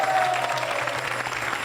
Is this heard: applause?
yes